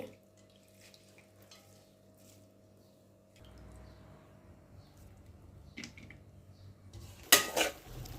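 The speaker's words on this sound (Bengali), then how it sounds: "আলুটা কেটে নিয়েছি এখন ধুয়ে নিচ্ছি" Cut potatoes being washed in a pot in a home kitchen, soft water swishing and sloshing with clinks of the pot, faint and close, building into louder splashes and clatter near the end, with no talking.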